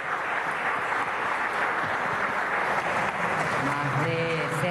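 Applause for a youth choir at a civic independence anniversary ceremony in a Caracas municipal council hall, a sustained crowd clapping heard steadily throughout, with a voice speaking over it near the end.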